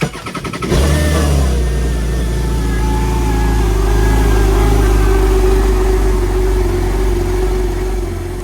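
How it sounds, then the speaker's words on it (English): A jet ski engine cranks briefly, catches and settles into a loud, steady idle, a low rumble close by that continues unchanged with no one speaking. "it never hurts to start your ski up and let it idle for a few seconds to ensure everything starts as it should"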